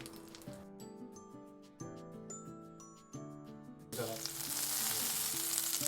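Bread toasts in melted butter in a pan for a lobster roll. A soft frying sizzle sits under background music, then swells into a louder, steady crackling hiss near the end.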